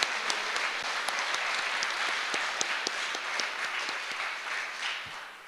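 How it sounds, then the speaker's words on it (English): An audience at a technician training program open house applauds, a steady, even wash of many hands clapping with a few sharper individual claps standing out, sustained throughout. "Let's give him another round of applause."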